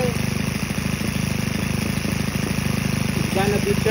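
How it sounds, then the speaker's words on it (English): A Senix 4-stroke weed eater engine idles down after the throttle is released, giving a steady low pulsing rumble close by with a slight rise near the end; a voice talks over it at times. "it's gonna be turned to idle down after I twist it"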